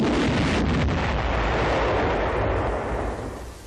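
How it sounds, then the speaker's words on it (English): A barrage of 33-pound T-40 demolition rockets fired against a sloping concrete beach wall merges into one sustained, roaring blast rumble, loud and wide, slowly fading near the end. "9 of the 33-pound rockets are fired against the sloping beach wall"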